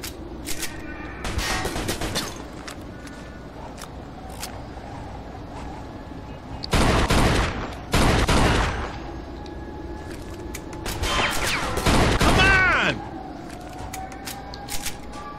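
Bursts of gunfire from the Mafia 2 jewelry heist shootout, with several rapid volleys spaced across the span over a steady background rumble.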